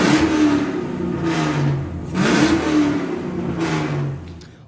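An LS-swapped G-Body car engine revs hard three times in a row, each loud rising roar falling back between blips, heard close and without voices.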